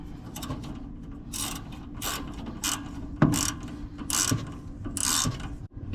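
Ratchet wrench clicking as it tightens a shock absorber nut on a Ford Courier mini-mover truck, repeated bursts of pawl clicks close up with short pauses between strokes.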